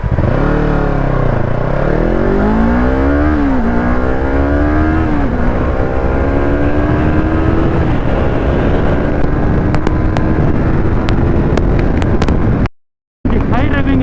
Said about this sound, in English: The high revving engine of R3 is insane